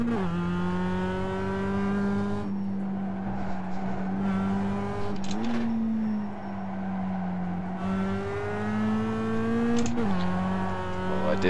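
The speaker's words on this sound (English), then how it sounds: "And the car instantly starts to slide." A race car in a racing video game slides off its line, its engine holding a steady, loud harmonic drone with brief pitch dips and surges as the tires lose grip, continuous with no talk.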